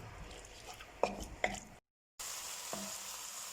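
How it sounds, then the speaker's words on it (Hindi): Chicken frying in a pan for hot and sour soup, with a low sizzle and a couple of sharp utensil clinks, briefly cut to silence before the quiet frying resumes. "और अब इसके साथ ही मैं इसमें ऐड कर रही हूँ चिकन। इसको हम 2 मिनट के लिए फ्राई करेंगे"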